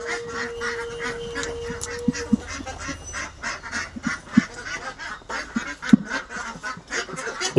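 Domestic ducks in a home poultry yard quack in scattered, repeated calls, some close and loud, over a low background hum.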